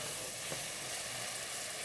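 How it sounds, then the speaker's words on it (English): Steady sizzling of tomato sauce and spices, including paprika, frying in a hot pan, a continuous crackling hiss with no voices. "we're going to let that sizzle for just a moment."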